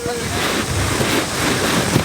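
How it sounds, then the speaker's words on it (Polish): Strong wind buffets the microphone in a continuous roar at an outdoor picnic, rumbling and gusting throughout, with no clear voices. "O, teraz jest wiatr."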